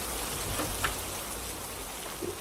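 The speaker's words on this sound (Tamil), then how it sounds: "மழை வேறு வந்துடுச்சு." Steady rain falls in a video game, a soft continuous hiss with a few faint drop ticks and no talk.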